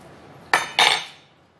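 A teaspoon clinks twice against a bowl while baking powder goes into fatayer dough: two sharp, bright metallic taps about a quarter second apart, close and clear, fading into quiet.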